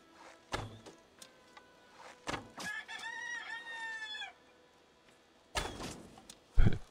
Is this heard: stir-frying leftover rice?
no